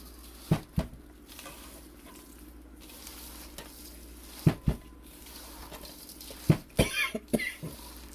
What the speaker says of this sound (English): We're going to mix this all together like we're making a big meatloaf.